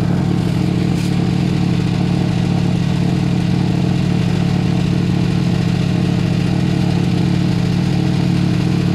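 A washing machine runs at maximum power while washing a rug, giving off a steady, loud, close mechanical hum and drone that stays level from start to finish, with no talking.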